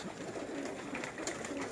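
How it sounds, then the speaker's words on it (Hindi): Soft, low cooing from falcon-breed pigeons kept on a rooftop, faint and steady against a noisy background. "ये इनके बड़े मशहूर कबूतर हैं"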